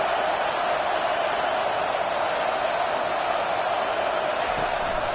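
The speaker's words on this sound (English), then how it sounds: "listen to this crowd noise. This stadium is vibrating." Dense stadium crowd roar at a college football game, a steady, loud wash of noise throughout with no distinct breaks, under commentary-level background.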